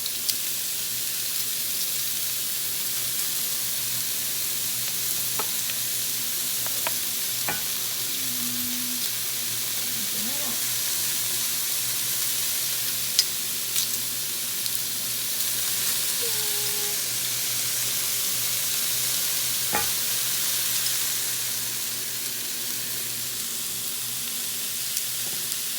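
Vegetables stir-fry in a hot pan with a loud, steady sizzle that holds throughout, broken by a few faint clicks and taps of a utensil.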